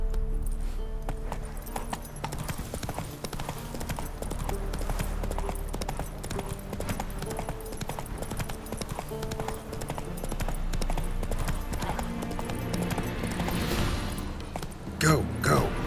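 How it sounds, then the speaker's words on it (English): In The Witcher 3 video game, a horse gallops in a steady rapid clip-clop of hooves that runs throughout, mixed with game music and ambient effects. "Run, Roach."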